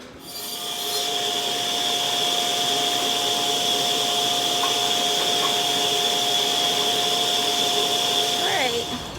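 A power saw cutting a wooden shelf board indoors on carpet, a loud continuous whining buzz that runs steadily for about eight seconds before winding down, with a faint voice under it.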